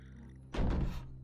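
A heavy door swings open in the horror game Stories Untold, a single low thudding creak that starts abruptly and lingers under a steady ambient hum.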